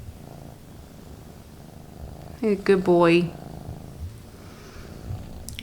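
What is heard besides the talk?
cat purring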